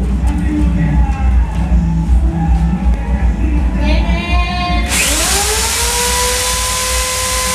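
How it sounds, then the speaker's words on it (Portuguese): Power screwdriver driving screws into the wooden frame of an ice cream cart, a whirring motor with rising pitch sweeps, loud and close, with a voice speaking in the background early on. "Primeira parte que eu estou parafusando aqui da estrutura fica bem reforçado, sendo parafusado."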